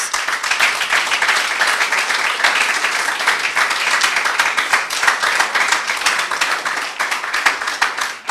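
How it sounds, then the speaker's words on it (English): An audience at a debate competition gives a loud, sustained round of applause, with dense overlapping claps held at an even level throughout. "every single one of you deserves an individual round of applause"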